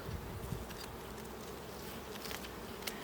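A dense, steady hum of many honeybees buzzing close by at an opened hive as frames are pulled, continuous and moderately loud with no voices.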